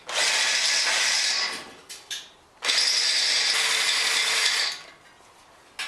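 A power drill bores out holes to enlarge them for a guide bushing, whining loudly and close in two long sustained bursts with a short stuttering blip between them.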